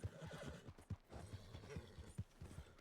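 A horse in Red Dead Redemption 2 snorts and whinnies while its hooves clop in a steady close rhythm, loud and clear with no talk over it.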